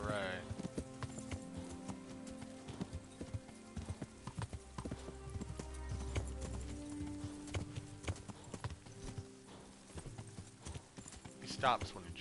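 A horse's hooves clip-clop in a steady cantering rhythm while riding through the medieval game world of Kingdom Come Deliverance, with someone talking over it, game music and a brief whinny near the end.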